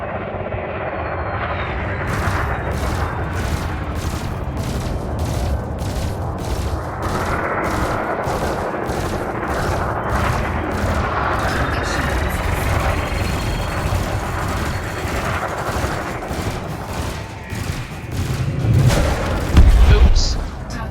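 Burst laser and multi-cannon fire in the video game Elite Dangerous, rapid regular pulses of weapon fire over a droning spacecraft engine, with a voice speaking over it and a heavier thump near the end.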